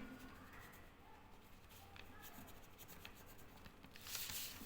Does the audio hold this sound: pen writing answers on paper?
yes